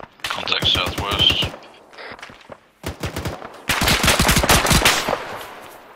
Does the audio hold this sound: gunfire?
yes